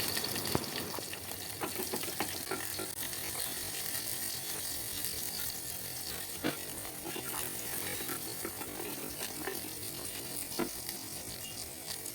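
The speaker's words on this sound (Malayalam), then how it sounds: "ഇതിലേക്ക് മൂന്ന് പച്ചമുളക് ഒരു ചെറിയ കഷ്ണം ഇഞ്ചി അഞ്ച് അല്ലി വെളുത്തുള്ളി പത്ത് ചെറിയുള്ളി എന്നിവ നല്ലപോലെ വഴറ്റിയെടുക്കുക" Green chillies, ginger, garlic and shallots sauté in a hot pan for a sardine curry, giving a steady, dense sizzle throughout with occasional faint scrapes and clicks, no talking.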